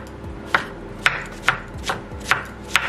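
A knife cuts cucumber into thin strips on a board, with about seven close, crisp, evenly spaced chops and no talking.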